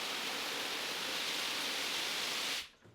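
An Eley hose cleaning nozzle sprays water in a steady, loud hiss. The spray cuts off abruptly near the end, leaving quiet.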